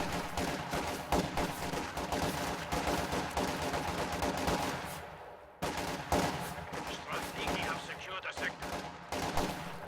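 Dense video game battle gunfire in a Company of Heroes-style match, rapid machine-gun bursts and scattered rifle shots overlapping throughout, with a brief lull midway before the firing picks up again.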